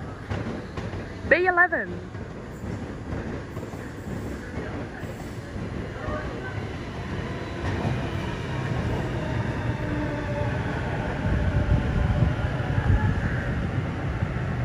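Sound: B set City Circle passenger train arriving at platform

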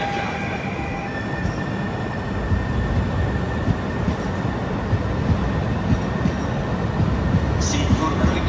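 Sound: train arriving at platform

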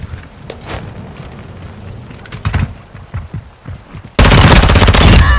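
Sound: gunfire from Modern Warfare 2 video game

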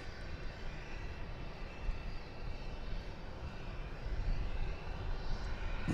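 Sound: Spirit Airlines airliner flying to Las Vegas

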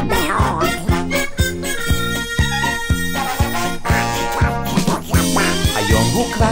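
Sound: voices imitating duck quacking in children's song

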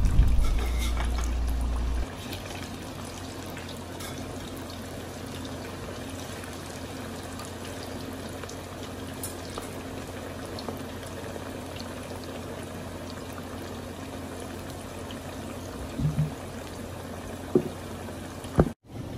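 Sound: frying green banana pieces in oil

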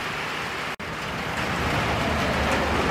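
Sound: rain falling at shooting range

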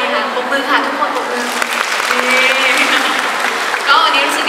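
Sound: audience applause

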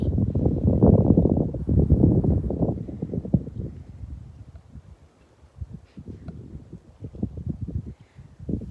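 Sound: wind blowing at a lake

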